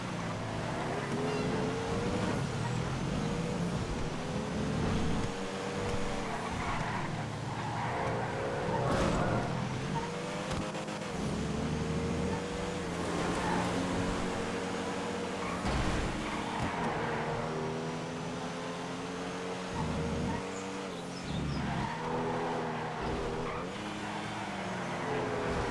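Race cars lapping a circuit in the GTA FiveM video game, with steady engine drone and rising and falling revs from several cars running close together, continuous and moderately loud throughout with no talking.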